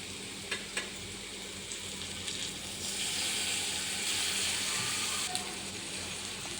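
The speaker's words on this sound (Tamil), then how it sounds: "நல்லா கிளறி விட்டுக்கலாம்" Egg noodles are stirred and fried in a hot pan, giving a continuous sizzle that swells midway, with scattered scraping clicks from stirring.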